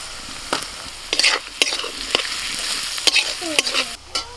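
Chopped onion hisses in oil in a wok while a spatula stirs it, giving repeated loud scraping clacks over a continuous close sizzle, with no speech.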